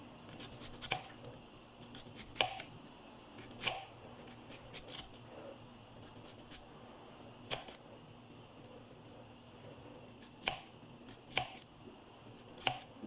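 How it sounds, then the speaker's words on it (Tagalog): A knife slicing an onion into rings on a cutting board for ginataang tilapia: sharp, irregularly spaced taps, fairly faint and close, with quiet kitchen room tone between cuts. "maghihiwa na tayo guys. Ayan, una guys, yung sibuyas."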